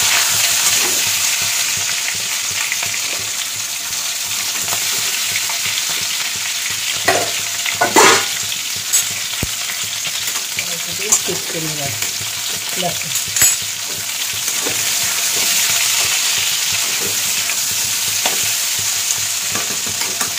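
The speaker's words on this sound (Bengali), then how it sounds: "এবার আলুগুলো যে তুলে রেখেছি এটাকে দিয়ে দিলাম, দিয়ে এটাকে ভালো করে ভাজবো" Potato pieces frying in hot oil for a Bengali aloo dum give a loud, continuous sizzle with occasional sharper crackles and stirring clatter, and no voices.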